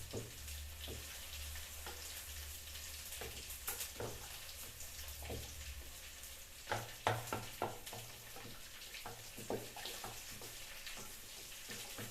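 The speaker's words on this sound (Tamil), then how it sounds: "இது நல்லா வறுபடட்டும்." Bottle gourd dal ingredients frying in a pan for an Andhra-style curry, a quiet steady sizzle with occasional clinks and stirring knocks, some sharper taps clustered in the middle.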